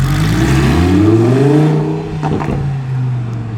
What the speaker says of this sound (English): Nice gargle there.